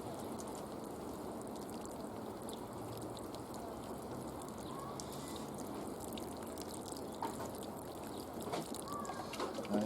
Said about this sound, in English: one thing you can't forget to do once you transplant it, and that is give it a good water